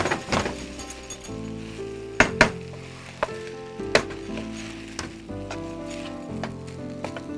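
Chicken fried rice sizzles in a hot pan while being stirred and mixed, with steady frying hiss, clinks of a utensil against the pan, and a few sharp scraping hits.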